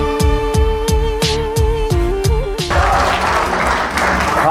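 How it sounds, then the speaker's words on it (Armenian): At a jubilee celebration, a crowd breaks into dense, close applause. Before it comes a run of sharp rhythmic beats with a sustained tone over them, like drumming with music. "այդ ինչ լավ ծափեր եք տալիս"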